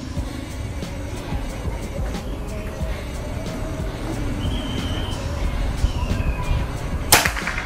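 One sharp, loud shot from a PCP air rifle cracks out near the end, after several seconds of steady outdoor background noise.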